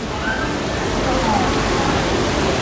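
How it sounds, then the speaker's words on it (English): Water splashing and sloshing as a boat comes down a water slide at an amusement park in Germany, a steady broad wash of spray filling the short stretch, with voices faintly mixed in. "You can see this boat splash down over here."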